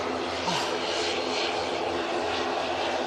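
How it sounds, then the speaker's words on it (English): Airliner departing Manchester Airport for the Isle of Man, a steady loud engine roar with broadband rushing noise throughout, near and continuous with no voices. "And this noisy thing is off to the lovely Isle of Man, off to see lovely Laura."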